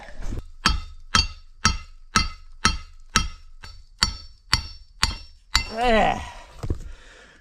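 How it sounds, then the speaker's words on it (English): A winch cable is hammered against a piece of metal to cut it, giving about ten sharp, ringing metallic clanks at a steady rhythm, close and loud, followed by a short burst of grinding scrape. "I should be able to hammer that up against that piece of metal right there, like so, like this, and it should cut it"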